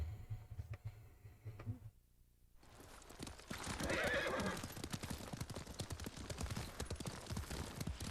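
Horse hooves clip-clop rapidly and a horse whinnies in the video game Ghost of Tsushima, with a brief quiet gap before the galloping resumes, steady and fairly close.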